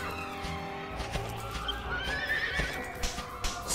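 A horse whinnies loudly and repeatedly over the clatter of hooves in Dragon Quest VIII on PS2, with game-like sound effects and no talking.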